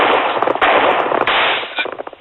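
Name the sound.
gunshot sound effect in radio drama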